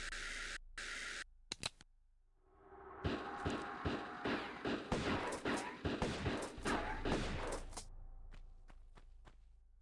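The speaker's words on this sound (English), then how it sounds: "Oh fuck, he's shooting me." An enemy fires repeatedly in the Tomb Raider video game: a quick cluster of sharp gunshots rattles for several seconds at moderate distance, then fades to scattered quieter clicks.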